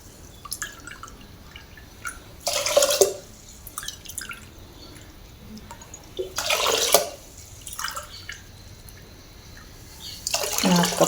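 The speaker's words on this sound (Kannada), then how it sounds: "ಅದಕ್ಕೇ ಒಂದು 4 ಕಪ್ಪು ನೀರು ಹಾಕ್ಕೊತಾ ಇದ್ದೀನಿ" Water being poured onto moong dal and foxtail millet in a pot, heard as three separate pours with splashing, each lasting under a second, and quiet drips and small clinks between them, close at hand.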